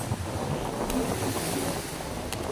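Small sea waves wash onto a shore strewn with heaps of garbage, a continuous soft rush of surf mixed with wind buffeting the microphone, with a voice speaking faintly in the background.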